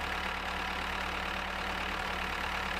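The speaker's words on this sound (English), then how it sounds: "Difficult to get this tractor to stay straight" A farm tractor's engine drones steadily in the video game Farmer's Life, a constant even mechanical hum with no other sounds over it.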